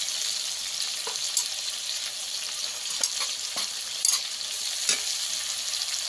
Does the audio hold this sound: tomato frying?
yes